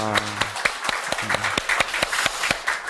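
Church congregation applauding in steady, rhythmic unison claps, loud and close, with a voice briefly heard near the start and midway.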